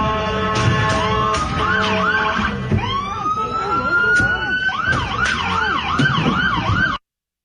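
Protest riot street scene with police and emergency sirens wailing and rising, several overlapping, over a dense background of crowd noise and traffic, loud and close throughout.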